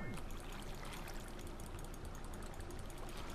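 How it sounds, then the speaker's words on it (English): Water draining in the Minecraft video game, a steady rushing, trickling flow that holds evenly throughout with no talk over it. "Yes, I'm draining all the water that I have."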